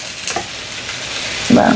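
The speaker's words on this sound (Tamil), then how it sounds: "சூப்பராக வதங்கி கொண்டிருக்குது" Onions and chillies frying in a pan, a soft steady sizzle with a brief stir clatter near the end.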